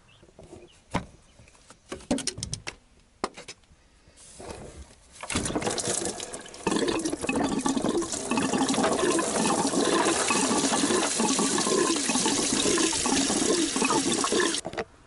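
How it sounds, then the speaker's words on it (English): Engine coolant pours into a basin beneath a 2.0-litre Mopar engine (Plymouth Breeze, Dodge Stratus, Neon), starting with scattered clanks and drips, then a steady loud liquid rush dominating the second half. "the coolant and make sure you drain it into a basin"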